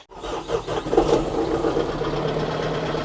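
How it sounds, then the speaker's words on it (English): A tractor engine starts and settles into a steady rumbling idle close by, with a slightly knocking diesel-like chug during driveway culvert work. "I'm gonna use the tractor to roll this in."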